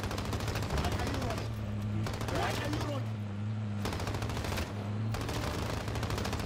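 Automatic gunfire in a Warzone match, rapid repeated shots in several bursts over a steady droning hum, with players talking faintly underneath.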